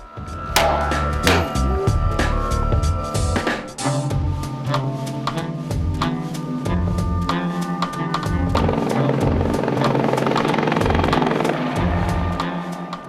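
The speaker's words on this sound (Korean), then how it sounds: "밤에는 경찰 헬기가 공장 위를 배회한다." Police helicopter circling over a factory at night, a loud steady rotor and engine drone that continues throughout with a few sharp bangs near the start.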